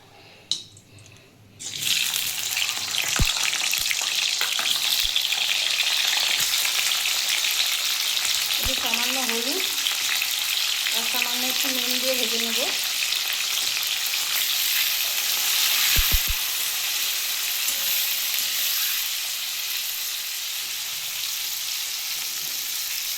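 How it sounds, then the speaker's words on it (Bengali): Flat beans frying in hot oil in a wok, a steady loud sizzle running throughout, with a few stirring scrapes and clatters of the utensil against the pan. "এই তেলের মধ্যে আমি শিমগুলো একটু ভেজে নেবো"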